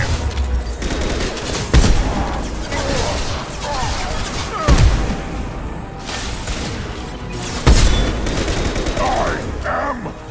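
Heavy gunfire in Mass Effect 2 comes in loud bursts of rapid shots and sharp impacts, repeating every few seconds with shouted voices between them.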